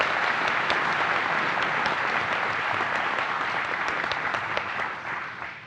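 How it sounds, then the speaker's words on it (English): Sustained audience applause at a NASA Marshall agency honor awards ceremony, a dense wash of many hands clapping for a single awardee, steady and close before easing off slightly at the end. "so let's have a round of applause"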